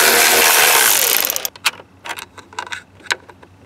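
A 10 millimeter speed nut is removed during a Dakota Digital dash install: a long, loud ratcheting burst runs for about a second and a half, followed by a scatter of short, sharp metallic clicks and taps.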